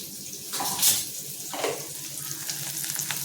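Onions with curry leaves, green chillies, turmeric and spices frying in a pan, giving a steady sizzle with a few louder bursts and scraping stirs, close and without talk.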